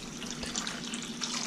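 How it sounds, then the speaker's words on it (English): Water poured from a container into a bowl of non-iodized salt brine mix for smoking sturgeon, a short, fairly quiet splashing trickle with some bubbling. "You put 7 cups of water in."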